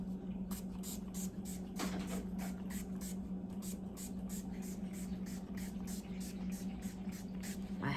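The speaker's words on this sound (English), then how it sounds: "So I'm gonna take this Once by Mills spray" Rapid pumps of a lavender-scented Once by Mills makeup setting spray, a train of short hissing bursts in quick even rhythm over a quiet, steady background hum.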